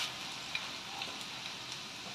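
Garlic sizzles in a hot pan while chicken adobo is being cooked, a steady, close crackling hiss with a few small pops.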